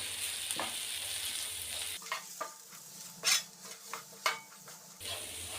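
Coriander powder, chicken masala and garam masala frying in a pan with the stove switched off, a soft residual sizzle broken by a few spatula scrapes and clinks against the pan.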